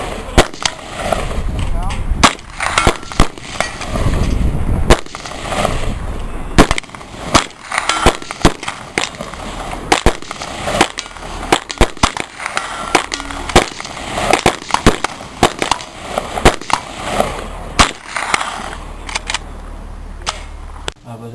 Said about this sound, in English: I was actually shooting these bullets, which is 125 grain hollow point and jacketed hollow point, semi-jacketed hollow point